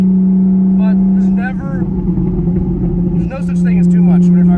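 A hypercar's exhaust rumbles loudly at a Dallas car show, a deep sustained drone with a brief dip in the middle, under excited talk.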